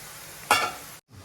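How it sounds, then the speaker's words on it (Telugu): Ivy gourd pieces deep fry in hot oil for dondakaya 65, a short burst of sizzling and stirring over a low bubbling hiss, then cutting off abruptly. "ఇంకో ఫైవ్ మినిట్స్ అట్లా ఫ్రై చేసుకున్నాం కొంచెం ఫ్రై అవ్వాలి"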